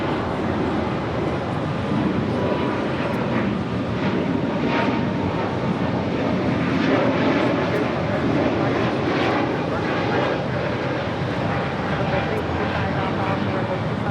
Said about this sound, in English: This is Spirit Airlines 1073 taking off to Nashville on an A320 Neo